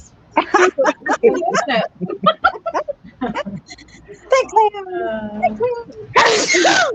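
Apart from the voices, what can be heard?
a person sneezing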